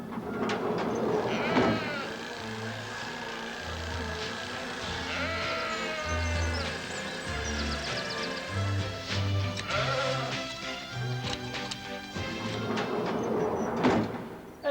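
Sheep bleat repeatedly beside a hand-shearing area, overlapping calls near and far in a crowded pen, with low murmuring voices and occasional thumps and scrapes beneath.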